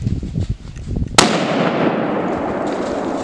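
A single loud rifle shot at a deer during an Indiana gun season hunt, with sharp onset and a long rolling echo, preceded by quiet murmured talk.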